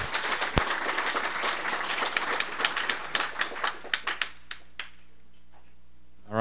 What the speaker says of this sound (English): one more round of applause for Phil